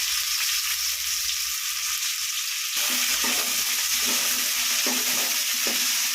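Chopped onions and garlic fry in hot oil with spluttered mustard seeds and dal for a dried-fish kuzhambu, giving a steady close sizzle that grows denser partway through, with soft stirring scrapes and no talk.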